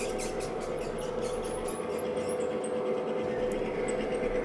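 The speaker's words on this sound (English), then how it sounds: "there are little buttons you can press to make the trains go" A snow-gauge model railroad layout at Edaville theme park gives a steady, even rumble and whir of running trains, with faint clicks on top and no pause.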